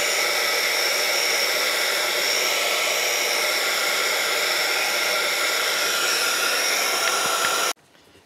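A hair dryer blows loudly and steadily up close, drying ink on a fabric tag, a continuous whooshing roar that cuts off abruptly just before the end.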